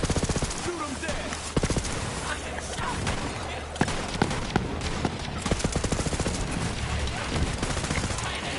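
Heavy, sustained gunfire from a firefight with bandits in the video game Borderlands 3, with continuous rattling automatic bursts and sharper individual cracks layered over a busy background of game sound.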